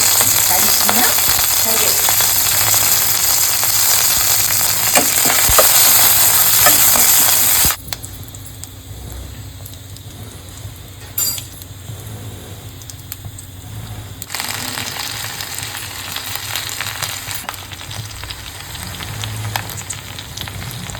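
Urad dal and cumin frying in oil for a tempering, a loud, dense sizzle with stirring that drops sharply to a quieter crackle partway through, then rises again slightly, with no one talking.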